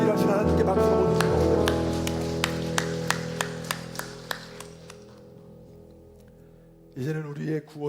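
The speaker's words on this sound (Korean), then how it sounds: "우리 위해서 일하신 하나님께 박수 보내주시고" A church congregation at a Korean Sunday worship service claps in an even rhythm over sustained music, the claps thinning and fading toward silence before a voice begins speaking.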